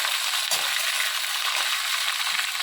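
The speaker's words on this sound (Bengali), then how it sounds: "গ্যাস কমিয়ে তারপরে সবজিগুলো সব দিয়ে দিলাম।" Mixed vegetables frying in a pan over lowered gas, a steady, dense hiss of oil sizzling close up, with a faint stir or bump early on and no talking.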